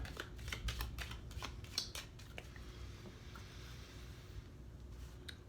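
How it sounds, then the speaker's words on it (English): Star-themed oracle cards being shuffled, a quiet run of soft papery riffles and flicks in the first couple of seconds, then fading to near silence. "I'm gonna shuffle up these star cards"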